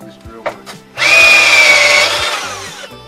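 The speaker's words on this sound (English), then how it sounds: "a bit overkill this drill" A power drill drilling out plastic rivets holding cable clips during an Astra H engine strip-down, whining loudly for about two seconds after a few soft handling knocks.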